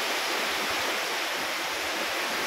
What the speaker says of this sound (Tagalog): Kaya kung maririnig nyo, sobrang lakas ng ugong na ugong. Malakas ang ulan. At hangin.